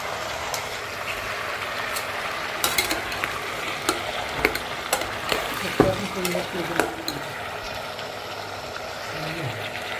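Ginger-garlic masala fries with kabuli chana for a curry, giving a soft, steady sizzle broken by repeated clinks and scrapes of a spoon against the pan, close and fairly quiet.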